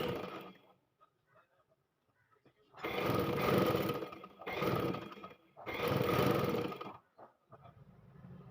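A sewing machine stitches fabric in three loud, steady bursts of whirring, each lasting about a second or more with short pauses between, after quieter handling noises.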